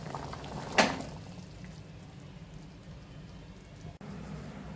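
Black-eyed peas simmer in a pot with a soft, steady bubbling hiss, broken by a brief clatter near the start and a small click toward the end.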